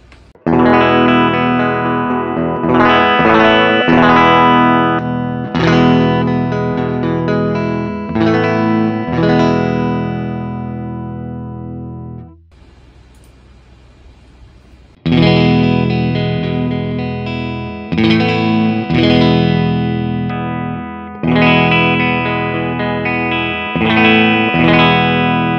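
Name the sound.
electric guitar through real amp played in DAW, changed cabinets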